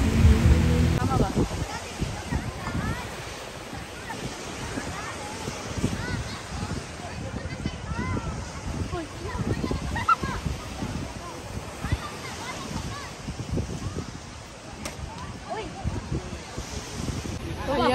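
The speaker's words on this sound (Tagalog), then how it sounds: "Sobrang alon kasi mahangin kasi and umuulan-ulan pa." Rough sea surf on a windy, rainy beach at Anda, Bohol, a broad continuous wash of breaking waves and wind noise with rushing swells, while a person talks over it throughout.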